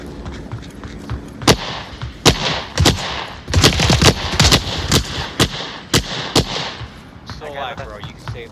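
Gunfire in the free-roam VR shooter Onward, with loud, close, sharp shots fired singly and in quick clusters over several seconds while players talk in the background.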